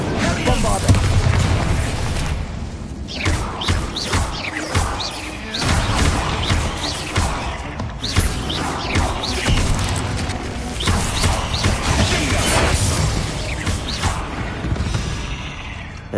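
Spell explosions from Confringo, Incendio and Bombarda going off in Hogwarts Legacy: loud, repeated booms and crashing bursts, one after another, inside a tomb, over a busy game soundscape.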